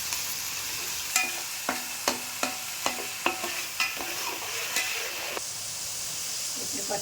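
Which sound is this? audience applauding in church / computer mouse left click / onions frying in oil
onions frying in oil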